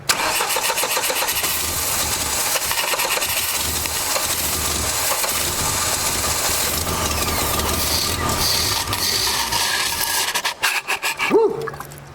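A 1989 Dodge Daytona engine with a leaking injector cranks and sputters as it floods, a loud continuous rough churning that falters and cuts out near the end.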